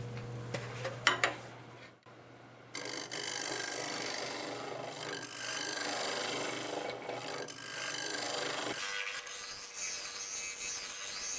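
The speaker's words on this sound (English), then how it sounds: "So let's use the negative rake scraper, clean that bottom up and get that smooth." Wood-turned square bowl spinning on a lathe as a negative rake scraper smooths its bottom, giving a steady close rasping hiss after a few knocks and a short pause, then tailing off.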